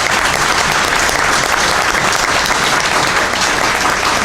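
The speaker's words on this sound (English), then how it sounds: "we can get her a big round of applause," An audience at a school board of education meeting gives a loud, continuous round of applause, a dense and even clatter of many hands that holds steady throughout.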